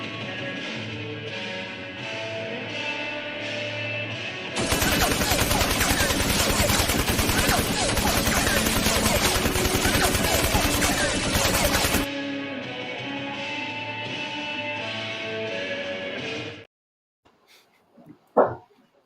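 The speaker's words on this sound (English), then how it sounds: "guns, and explosions?" Rapid bursts of automatic gunfire and blasts blare continuously over a background soundtrack, then cut off into near silence with a few scattered knocks.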